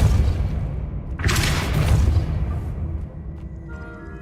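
Depulso, the knockback spell in the video game Hogwarts Legacy, cast as a deep booming thump followed by a bright whooshing burst, then a fading rumble, all up close with no talking.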